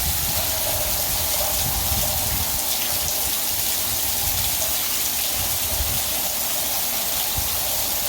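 Heavy rain from Tropical Storm Barry's thick rain bands pours down in a dense, constant roar of falling water that stays loud and unbroken throughout.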